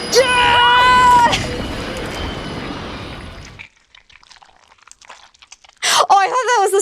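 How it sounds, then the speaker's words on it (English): Squelching, crunchy mud noise from the video game Nancy Drew: Last Train to Blue Moon Canyon runs for a few seconds after some tonal game chimes, followed by a brief quiet stretch and then a voice talking. "I thought that was the sound of her, like, bleeding out, but no, it's mud"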